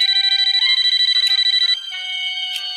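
A telephone rings with a rapid electronic trill, then pauses into a softer tone and rings again briefly; no voices.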